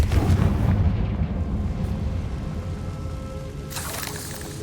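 Confringo fire spell from Hogwarts Legacy bursting in a heavy, rumbling explosion that fades into a long roaring tail, with a brighter crackle flaring near the end.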